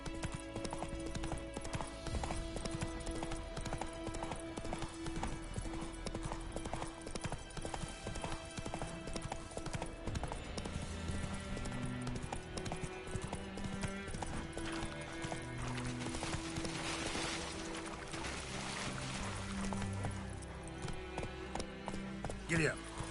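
Roach the horse gallops in The Witcher 3 on PS5, a continuous fast clip-clop of hooves under game music and ambience, with an occasional whinny and a voice speaking over it.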